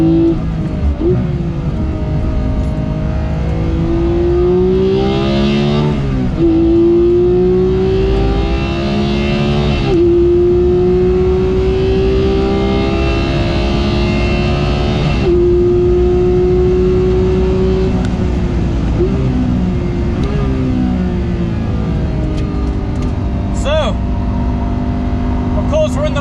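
A Porsche 991 GT3 accelerates hard through the gears with flat shifts. The loud engine note rises steadily and is cut briefly at each rapid upshift, and a voice talks over it inside the car.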